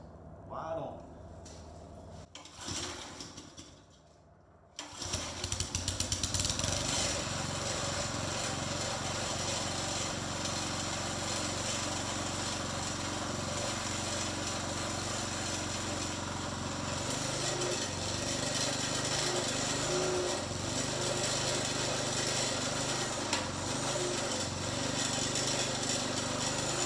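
A Briggs and Stratton small engine after a carburetor diaphragm replacement, with the choke on: a couple of pull attempts, then it catches and runs steadily and loudly at close range for the rest of the clip.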